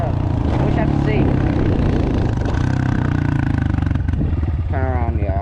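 Dirt bike engine while riding, a loud throbbing motor with a rapid pulsing beat and rising, falling revs, close and steady throughout, with a voice over it at times.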